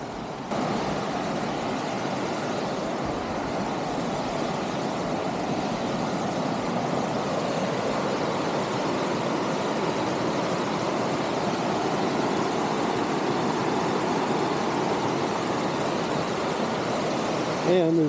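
Waterfall cascades on the Black River in Michigan's Ottawa National Forest make a steady, moderately distant splashing rush, unbroken for the whole stretch, with a voice speaking over it at times.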